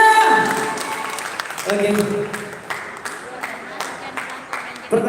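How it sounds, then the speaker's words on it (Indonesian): Scattered claps from a small audience at a contest event, sparse and uneven, with a speaker's voice over them. "Tepuk tangan dulu yang ada di sini semua, mana tepuk tangannya?"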